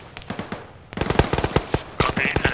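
Enemy gunfire in ArmA 3, rapid bursts of machine-gun shots crackling close and loud in quick succession, with a denser volley near the end.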